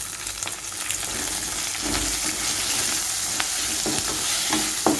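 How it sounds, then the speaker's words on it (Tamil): Onion, tomato and other chutney ingredients sautéing in a hot pan, with continuous close sizzling and repeated scraping strokes of a spatula stirring. "இந்த வெங்காயம் வந்து லைட்டாக வதங்கணும்."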